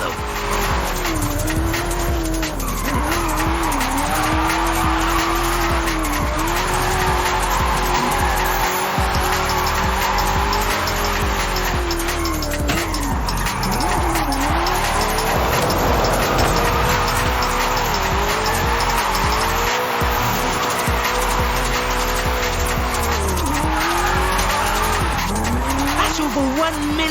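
A car drifts in Forza Horizon 5 at a Mexico drift club, engine revving and tyres squealing in long wavering sweeps, loud and continuous, with a voice speaking over it at times.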